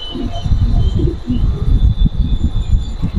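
Lahori Siraji pigeons, a male and a female, coo in low rolling bursts nearby, with soft chirps in a busy bird market setting.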